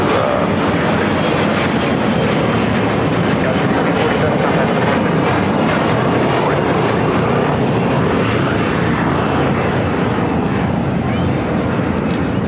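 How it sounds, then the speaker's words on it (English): A Viva Aerobus Airbus A320 taxis at LAX, turning onto a taxiway with a steady, loud broadband jet engine rumble. The rumble runs throughout with voices talking over it. "Flight 511 now making that left-hand turn onto Bravo"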